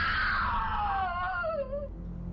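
A witch's scream in a horror story, a long wailing shriek that slides downward in pitch over about two seconds, loud and close with no talk over it.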